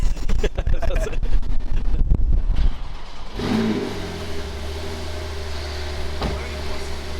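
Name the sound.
ABT wide body Audi SQ7 V8 diesel revving, Milltek exhaust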